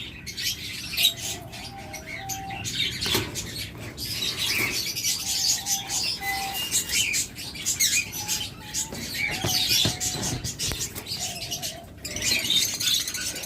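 Pet birds sold in pairs chirp in short repeated calls amid the rustle of fluttering wings, with the steady calls coming in clusters over a constant background hiss.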